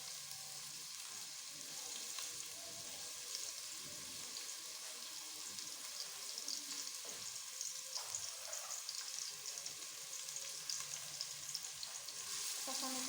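Four to five cloves of chopped garlic sauté in a pan with a faint, continuous hissing sizzle and small crackles, quiet and close, with no voices over it.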